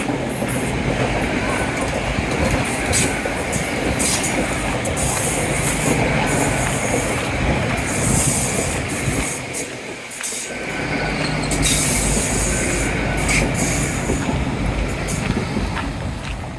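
A train rumbles steadily past nearby along a seawall, wheels clattering and squealing on the rails, loud throughout with a brief dip partway.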